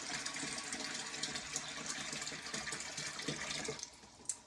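Water pours steadily into a pressure canner around glass jars of venison, a continuous soft splashing gush that tapers off near the end, faint and alone.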